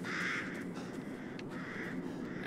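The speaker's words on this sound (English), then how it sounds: "Bye, crows." Crows in the video game Resident Evil Village give a few harsh caws at moderate distance over a faint ambient bed, with no voices.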